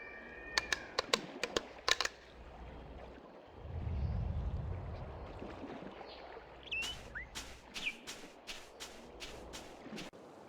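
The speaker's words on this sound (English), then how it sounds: "you're just clicking your claws, aren't you?" Sharp clicking of a creature's claws in The Longest Journey: quick clustered taps at the start, then a longer run of crisp, evenly spaced clicks after a low rumbling swell, fairly close and otherwise quiet.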